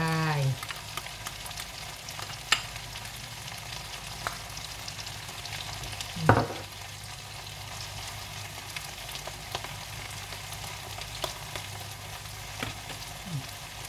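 Chili and garlic stir-frying in a pan for a Thai basil mushroom stir-fry, with a steady low sizzle throughout and a few sharper clinks of the spatula against the pan.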